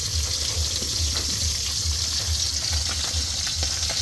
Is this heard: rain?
no